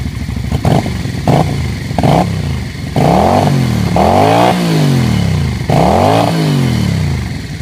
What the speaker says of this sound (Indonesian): Ini juga suaranya khas V-twin